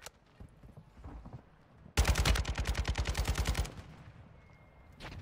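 Automatic gunfire in Call of Duty Warzone, with a Kastov 762 loadout, bursts out as a rapid stream of loud shots lasting under two seconds, followed by a quieter tail and a few fainter sounds.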